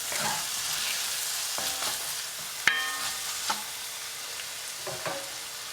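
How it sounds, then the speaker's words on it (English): Sliced onion sweats in butter in a pan with a soft, steady sizzle, broken by a few sharp clinks of a utensil against the pan; no one speaks. "Peel and slice onion and add to the pan. Make it sweat with more butter."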